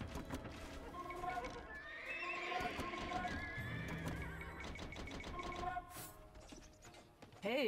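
Horses whinny repeatedly amid galloping hoofbeats and mechanical clatter in an Age of Empires 2 Definitive Edition 3v3 ranked battle on a Black Forest map, with someone talking over the game sounds.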